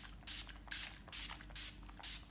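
Urban Decay All-Nighter setting spray misted from its bottle, five short hissing pumps in a steady rhythm, close and fairly soft.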